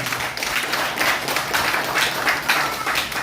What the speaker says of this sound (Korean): 우리 목사님을 비롯한 우리 단원들을 위해서 한번 감사 박수 한번 크게 한 번 해주세요.